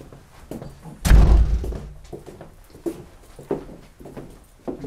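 A door closes with one loud, heavy slam near the listener, followed by muffled shuffling and faint movement in the room.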